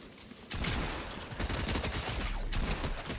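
Rapid SMG bursts in Fortnite erupt after a brief lull, a dense, loud string of close gunshots continuing without pause.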